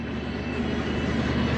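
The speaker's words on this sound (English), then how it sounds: "The other drill, you can sort of hear everything working." A seed drill working behind a tractor gives a steady mechanical rumble and whirring hum at moderate, even loudness, with nothing else standing out.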